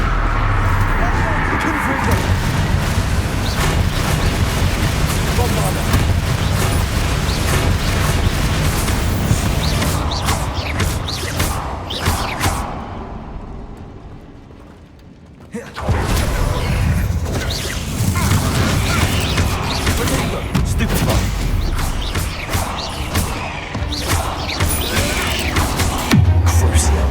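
Confringo and Bombarda spells go off in Hogwarts Legacy, making loud booming, crashing blasts with dense battle noise and voices throughout. The sound stops briefly near the middle, then comes back with more explosions.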